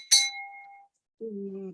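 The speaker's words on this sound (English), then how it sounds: "hit the notification bell" A notification bell sound effect: one bright, ringing ding that decays over about a second, followed by a softer, lower two-tone chime. Both stand clear and alone with no talk.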